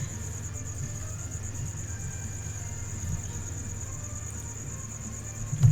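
Crickets chirp in a steady, continuous high trill, a constant insect chorus over a low background hum, holding at an even level throughout.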